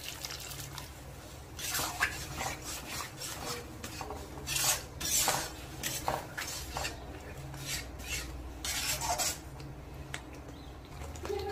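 A spoon scrapes and stirs a cashew spice masala in a pan with a little hot water added, making a busy run of metallic scraping and soft rubbing strokes, close and fairly quiet, with no talk.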